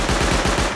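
A mounted turret fires in the survival game Rust, a loud, dense rapid burst of automatic shots heard up close in one short continuous stream.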